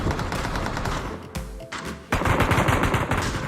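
Dense automatic gunfire in the PUBG video game, loud rapid bursts with a short gap near the middle, then the shooting resumes just as heavily, with no voices.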